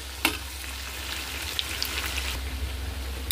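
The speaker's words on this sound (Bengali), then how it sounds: "কুচিয়ে রাখা পেঁয়াজটা দিয়ে আমি ভালো করে পেঁয়াজটাকে ভেজে নেব" Chopped onion frying in a pan for biryani, a steady soft sizzle with small crackles and a faint stirring scrape, close by and alone.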